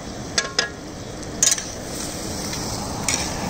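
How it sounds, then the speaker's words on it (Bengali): Potatoes frying in a pan at an outdoor picnic cooking session, a steady soft sizzle running throughout, with a few brief metallic clinks of a utensil stirring against the pan. "ওখানে দেখুন ওখানে কি ভাজা হচ্ছে, আলু ভাজা হচ্ছে"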